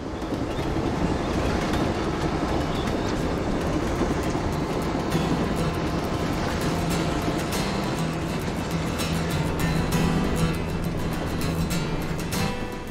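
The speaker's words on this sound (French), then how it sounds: "Le train touristique de Kouranda emprunte une voie ferrée construite il y a plus d'un siècle" A Kuranda tourist train runs along a railway built more than a century ago to serve mines, giving a steady, continuous rumble of wheels and carriages with a low mechanical hum, close and unbroken throughout.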